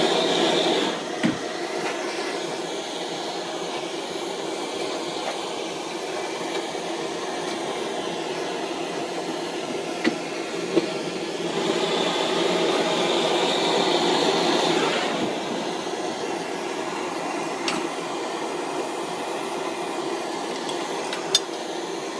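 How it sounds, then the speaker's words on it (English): A silversmith's torch silver-solders the edges of a small silver wheelbarrow basket, giving a steady, close broadband roar and hiss that swells in the middle, with a few faint clicks and no talking. "So I'll do that now, silver solder that straight down the edges."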